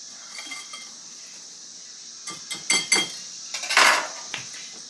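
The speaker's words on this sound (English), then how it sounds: "it's also mixing the flours and the sugars together real good" Flours and sugars for banana bread being stirred together in a bowl, a faint scraping that gives way to a burst of quick utensil clinks and knocks against the dish, with no talk.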